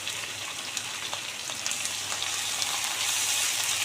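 Garlic, ginger and onion paste with chopped onion sizzling in a pan for chana masala, a steady close crackle and spatter with no voices.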